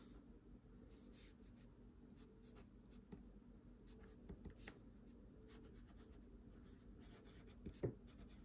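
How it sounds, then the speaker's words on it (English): Benu Briolette fountain pen in Snow Season with a medium nib, writing broad smooth lines on paper. Its faint, close scratching and gliding strokes run steadily against a quiet room hum. "This pen writes very nice."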